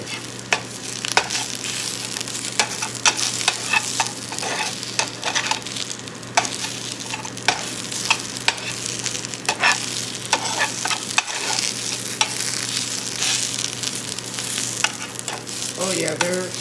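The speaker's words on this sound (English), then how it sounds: "now I'm going to bring the onions and the garlic that was on the side of the skillet and mix everything together" A spatula scrapes and stirs potato skins, onions and garlic in a sizzling skillet, with steady frying hiss under repeated close scraping strokes and no talking.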